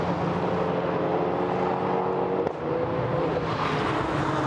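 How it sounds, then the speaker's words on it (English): GT4 race cars power down the straight toward Hawthorns at Brands Hatch circuit, a loud steady engine roar with layered droning tones and a brief shift in pitch midway as one car passes. "Cars powering their way down once more towards Hawthorns"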